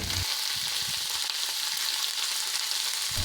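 Gongura leaves with coriander powder, cooked for Telangana-style gongura chicken, fry in a pan with a steady, close, loud sizzle and occasional stirring noises.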